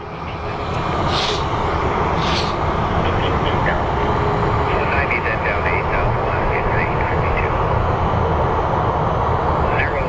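A WestJet Boeing 737 Max airliner in Spirit of Canada livery roars loudly and steadily as a jet at Phoenix Sky Harbor International Airport, with a person talking over the engine noise.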